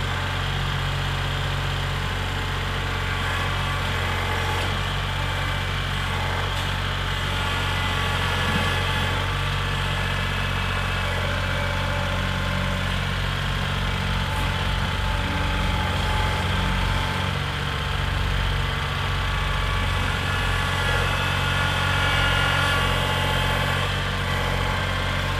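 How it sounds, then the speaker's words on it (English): A tractor engine idles and works steadily while removing sod in the garden of an old farmhouse, a continuous low rumbling drone with even vibration throughout, close and alone without talk. "I'm liking that tractor as much as he does right now."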